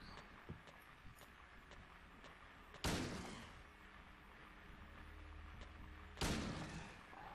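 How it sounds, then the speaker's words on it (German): Two separated gunshot blasts from a handgun in the survival horror game Silent Hill 2, each a sharp loud crack with a decaying tail, over a low game ambience with faint knocks. "die brauchen sechs Schüsse"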